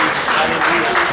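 Congregation applauding and cheering in a church service, a short burst of dense clapping with voices mixed in.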